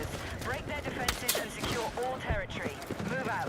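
Mortar fire lands near the spawn during a Battlefield 6 match, with continuous booming and gunfire clatter while a voice talks over the din.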